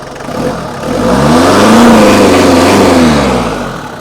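The diesel engine of a 1996 Mitsubishi L200 Cyclone pickup revs up loudly from idle, holds a rising roar for a couple of seconds, then eases back down.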